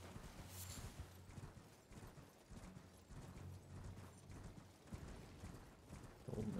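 A horse trots in the video game Elden Ring. Its hooves clip-clop in a steady, fairly quick rhythm, moderately close and quiet, over a dense ambient game backdrop.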